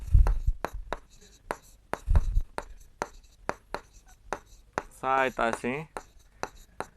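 A pencil scratches on paper while a ray is drawn using a protractor, in a string of short sharp strokes and taps with brief pauses, up close. Someone speaks briefly in Hindi partway through.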